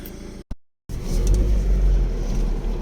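Skoda Octavia A5 with the 2.0 BKD engine, running modified firmware, pulls away on a road test drive; a steady engine rumble and road noise build after a short cut, close and fairly loud, with no talk.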